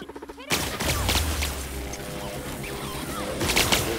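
Gunfire during a firefight in The Outer Worlds: a few light taps give way to a sudden loud volley of rapid shots and crashes that carries on, then swells again near the end.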